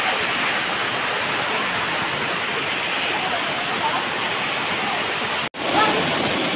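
Pinipisakan Falls in Samar, a waterfall heard as a loud, continuous broadband roar close by, steady throughout with one brief cut near the end.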